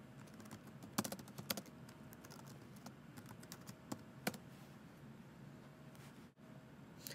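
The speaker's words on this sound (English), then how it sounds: "Here, you can type in your text message, and when you hit enter, it will be sent." Close, quiet keystrokes on a computer keyboard tapping out a text message in a chat box, irregular clicks with a few louder hits, then a pause near the end.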